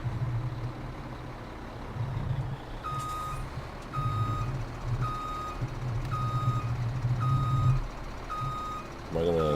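Truck with trailer reversing in Farming Simulator 17, its backup alarm giving a regular series of about seven evenly spaced beeps over a low rumbling diesel engine idle, fairly close and clear.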